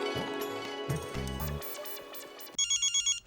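A phone rings in a home during a TV sitcom scene. A chiming ringtone melody plays loud and close, then a repeating electronic ring pattern pulses five times.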